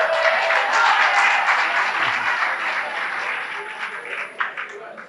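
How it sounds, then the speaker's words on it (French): A hall audience at a World Radio Day event applauds the radio station's president, a dense burst of clapping that fades gradually over several seconds, close and fairly loud, with faint talk underneath near the end. "vous pouvez quand même lui faire des applaudissements"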